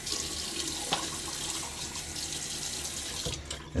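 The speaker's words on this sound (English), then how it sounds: "so let's splash pre-wash here." Running tap water splashing in a sink as someone rinses their face before shaving, a continuous close hiss with a few sharper splashes, no talking.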